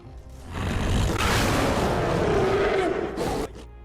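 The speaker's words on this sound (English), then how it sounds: "A bloodthirsty resting growl." A werewolf from a Skyrim mod lets out a bloodthirsty resting growl. It is a deep, rough, rumbling snarl that swells and holds for about three seconds, close and loud, then stops abruptly.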